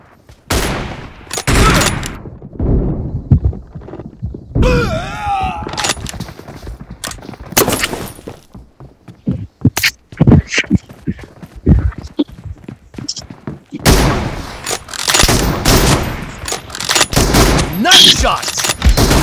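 Gunfire from an M24 bolt-action rifle in PUBG Mobile, sharp loud cracks scattered irregularly among game effects, footsteps and in-game voice callouts.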